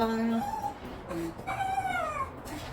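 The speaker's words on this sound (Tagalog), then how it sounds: "Naririnig nyo yan guys, yung aso ko." A dog whimpers and whines in rising, drawn-out tones, several high cries in a row, fairly close and clear against a quiet outdoor background.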